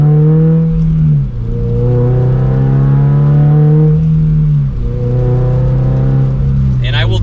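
A Toyota GR86 fitted with a loud aftermarket exhaust accelerates: a strong, steady engine drone climbs in pitch through the gears, with brief dips at each shift, loud and close throughout.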